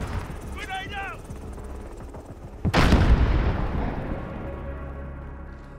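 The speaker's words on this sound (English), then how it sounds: "Grenade out!" A grenade blows up in Call of Duty Modern Warfare 2019 team deathmatch, a sudden loud boom with a long rumbling tail over background battle noise and a brief voice shout before it.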